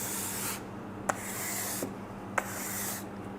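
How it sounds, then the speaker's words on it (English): An ice scraper rasps against ice buildup on an ultra-low temperature laboratory freezer in repeated, steady back-and-forth strokes. The scraping is close and moderately loud, with a few sharp ticks as the blade catches. "using the provided ice scraper and scraping any excessive ice buildup"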